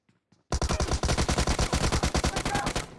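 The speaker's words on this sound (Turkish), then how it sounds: "Adam arkadan sıkıyor." Automatic gunfire in PUBG Mobile, a loud close rapid burst of evenly spaced shots running for over two seconds after a brief near-silent start.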